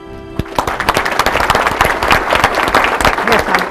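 A room of attendees at a town's State of the Town Address applauds corporate sponsors, dense sustained clapping that starts abruptly and stays loud and close, with a voice briefly heard over it.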